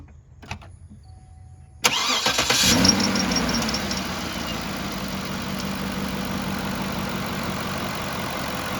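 A 2007 Cadillac DTS, just back together after a water pump replacement, cranks over briefly and catches, flaring loudly before settling into a steady, even idle.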